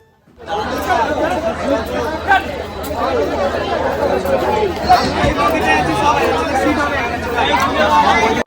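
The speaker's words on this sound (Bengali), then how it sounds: "মাকে দর্শন করার জন্য এত লোকের ভিড় হয়েছে যে ট্রেনে ওঠার মতো জায়গা পর্যন্ত কেউ পাচ্ছে না" Dense crowd of pilgrims packed aboard a train, a loud continuous babble of many overlapping voices filling the car for the whole stretch.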